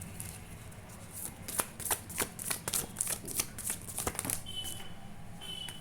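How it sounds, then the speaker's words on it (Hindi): Tarot cards riffle and slap in quick, crisp bursts, shuffled close by and then pulled from the deck, with faint background hiss and a brief high tone near the end. "आपके लिए एक और कार्ड मैं पुल करना चाहूँगी"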